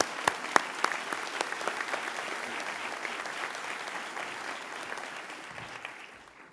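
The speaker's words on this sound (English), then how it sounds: "How about one more round of applause?" Commencement ceremony audience applauding, opening with a few sharp individual claps that swell into a broad, steady wash of clapping from a large crowd, gradually thinning toward the end.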